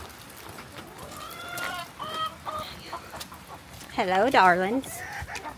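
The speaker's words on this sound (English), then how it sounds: "go feed the chickens" Backyard chickens cluck and squawk nearby at feeding time, with one louder drawn-out call near the end; a person briefly speaks to them.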